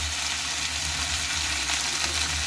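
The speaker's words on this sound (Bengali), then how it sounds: "সয়াবিনটা ভালোভাবে কষিয়ে নিয়েছি মশলার সাথে।" Soybean chunks frying with spices in a pan, a loud, steady sizzle with no pauses, up close and with no talking.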